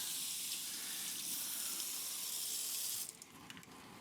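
Running tap water rinses a cast iron pan in a sink, a steady loud splashing stream that cuts off near the end, leaving brief drips and clatter.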